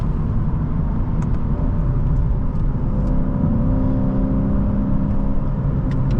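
A 2023 Lexus IS500 V8 in Sport Plus gives a steady, deep engine rumble and road roar heard from inside the cabin, loud and continuous with no talk.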